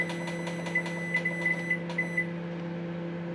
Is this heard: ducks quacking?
no